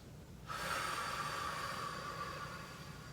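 A long, steady breath drawn in during a stretch, starting suddenly and holding as a close, airy hiss that slowly fades.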